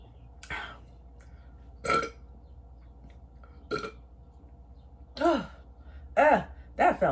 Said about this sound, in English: sometimes burping, it burns a little bit, because this soda is no joke